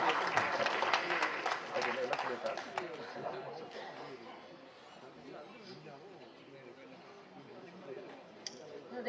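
At a movie audio and trailer launch event, an audience breaks into loud applause that fades after a few seconds into a low murmur of chatter.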